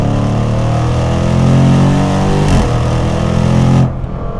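The V8 engine of a 2025 Jaguar F-Pace SVR drones in a deep, steady rumble, swelling slightly before cutting abruptly near the end, loud and close with no talking.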